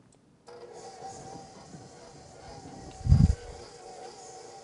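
A stand mixer creams butter with granulated sugar and lemon and orange zest, giving a steady whirring motor drone throughout, with one short, louder thump partway through.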